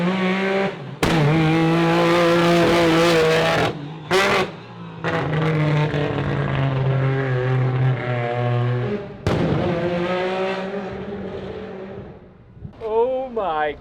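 Four-rotor race car at Pikes Peak driving a circle, its engine snarling loudly with shifting pitch. Sharp bangs and pops break through the drone, and people can be heard talking underneath.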